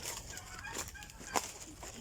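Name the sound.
turkey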